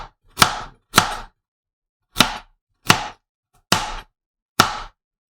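A knife chops carrots into little pieces on a board for miso soup, giving six crisp, separate thuds at uneven intervals, close and clear with silence between.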